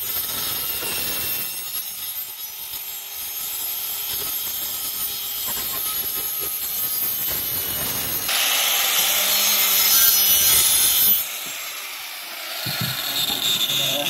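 A hand saw cuts through a piece of wood for a homemade chicken feeder, making continuous rasping strokes nearby that grow louder and harsher toward the end.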